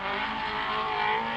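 Talbot Sunbeam rally car taking a corner at high speed on a rallysprint stage, engine howling loud and steady with a harmonic whine, a brief close pass with no talking.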